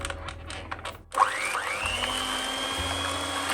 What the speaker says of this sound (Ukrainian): Та починаю все збивати. Нам потрібно це збити до консистенції м'якого крему.